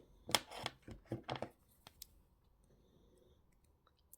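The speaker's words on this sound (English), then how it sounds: "So I'm just going to cut those ends off." Wire cutters clipping the ends of wrapping wire on a handmade Valentine heart ring: a quick cluster of sharp, close snips and clicks, then a couple of fainter ticks in near silence.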